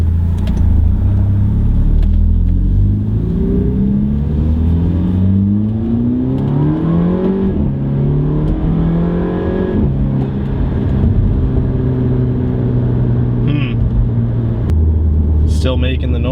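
An Audi A3 2.0 TFSI engine with a failed turbo diverter valve drones and revs up and down close by, rising and falling in pitch under a steady rumble, with a faint whir throughout.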